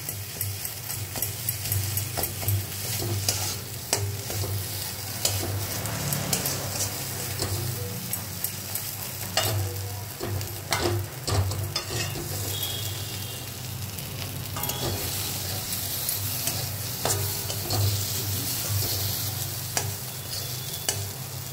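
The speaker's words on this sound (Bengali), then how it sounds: "এবার কড়াতে একটুখানি নেড়ে নিতে হবে।" Ground prawn-head paste sizzles steadily in a hot wok as it is stirred, with a dense continuous frying hiss and frequent scraping strokes of the spatula throughout.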